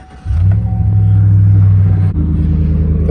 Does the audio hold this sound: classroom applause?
no